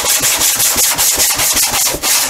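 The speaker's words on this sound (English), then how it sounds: "It won't take long with this 80 grit sandpaper." Coarse 80 grit sandpaper is rubbed rapidly back and forth over balsa wood on a model airplane fuselage, giving a loud, close, rhythmic scratchy rasp with no pauses.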